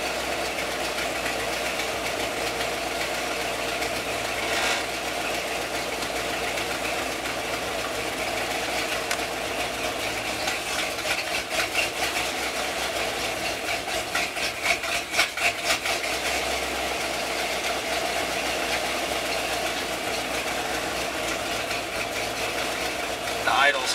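An EFI Ford 460 V8 idles with a hunting idle, a steady low engine drone that wavers in pitch, with some knocking clatter and brief louder bursts partway through.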